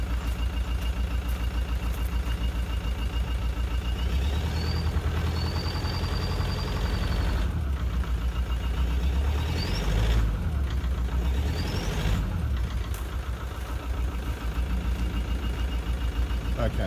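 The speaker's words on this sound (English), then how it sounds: "That is a cracked piston." An engine with a cracked piston running steadily, a continuous loud, rough low rumble with an even knocking pulse throughout, heard close, with a few faint higher whines over the top.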